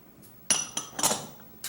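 A utensil clinks and scrapes against a pan while parsley is stirred into frying mushrooms and hominy, a few sharp close metallic taps in quick succession.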